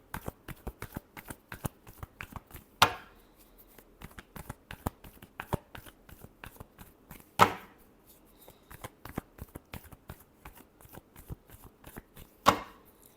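Tarot cards are shuffled over and over in quick, soft riffling bursts, with three sharper snaps standing out, close and alone.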